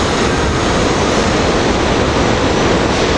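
A New Jersey Transit train of Comet I cars halted at 30th Street Station during rush hour, giving off a constant broad roar of idling equipment and station noise, loud and unbroken.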